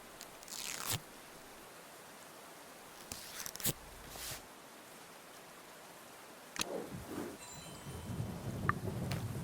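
Rain falls steadily with rumbling thunder in a mystery adventure game, quiet background patter broken by a few sharp crunching and clicking effects, with no speech.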